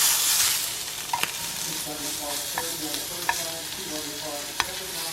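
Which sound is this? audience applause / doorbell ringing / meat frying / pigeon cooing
meat frying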